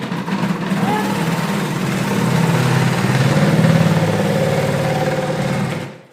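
Thermomix TM7 fitted with the découpe minute attachment slicing carrots finely, a loud, steady motor whir with a grinding rattle that holds for about six seconds before cutting off abruptly.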